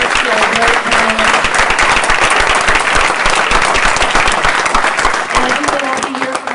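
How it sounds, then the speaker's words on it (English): Loud, sustained applause from a conference audience thanking a plenary panel at a clean power and healthy communities event, many hands clapping close and steady, with faint voices underneath. "Please give a warm thank you and applause to our great panel."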